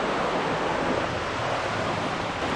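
Shawnee Run, a creek with a concreted bank and a deep, undercut bend, flows with a steady, broadband wash of water that holds constant and fairly close throughout, with no talking.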